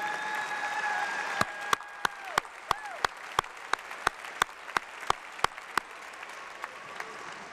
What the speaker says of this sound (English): Let us applaud you for being here and helping the cause of Israel.